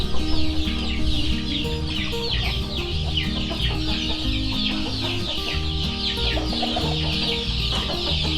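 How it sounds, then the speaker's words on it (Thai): Chickens cluck and chatter continuously outdoors after a storm, a busy flock close by with overlapping calls and no talking. "ไก่ได้มีโอกาสออกมาข้างนอกแล้ว"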